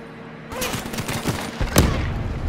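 Rapid gunfire in Call of Duty: Black Ops 3, close bursts of shots and a loud blast, crackling continuously over about two seconds.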